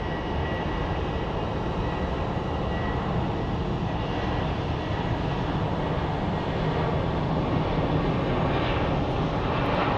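A plane departing Phoenix Sky Harbor airport gives off a steady, loud broadband jet roar that holds constant for the whole stretch, with no voices over it.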